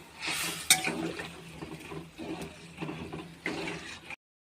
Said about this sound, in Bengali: এবার আমি প্রথম গরম জল করে রেখেছি মধ্যে দিয়ে দেব।